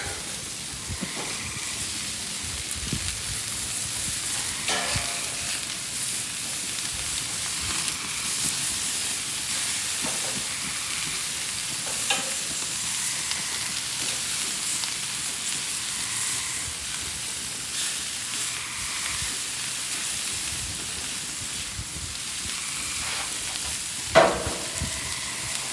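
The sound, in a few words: peppers and onions frying on a gas grill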